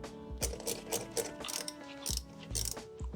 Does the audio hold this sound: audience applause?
no